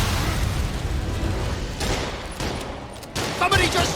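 Enemy gunfire in the video game Spider-Man Remastered, a dense, continuous rattle of shots layered under battle noise and dialogue.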